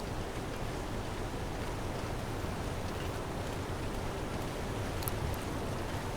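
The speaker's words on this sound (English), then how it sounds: "These waterfalls are really loud." Loud waterfall in The Long Dark, a dense, even roar of rushing water that fills the whole clip without pause, close and steady with no voices.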